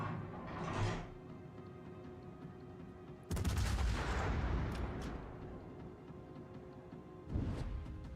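Heavy naval guns boom from a warship in World of Warships, three separate loud blasts spaced a few seconds apart, each with a rumbling tail, over a steady low background of game ambience.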